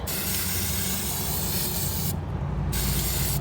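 Spray paint hissing from an aerosol can as a second coat goes onto craft items, a steady close spray that stops briefly near the end and then resumes.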